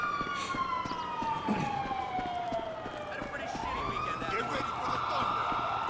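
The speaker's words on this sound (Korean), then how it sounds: "경찰이 뜬 건지 얘네 비상벨이 울린 건지 모르겠지만" A police car siren wails in a Grand Theft Auto V game scene, loud and sustained, sweeping up and down in pitch over continuous game background noise.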